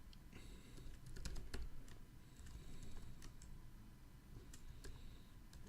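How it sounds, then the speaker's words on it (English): Computer keyboard being typed on, quiet irregular key taps in short clusters over faint room hum. "We can type in our Linux server name."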